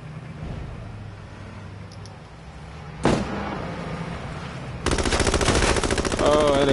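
Light machine gun fire in the H1Z1 video game, a sharp burst of rapid shots opening abruptly, followed by a sustained dense run of automatic fire, loud and close with faint background game noise.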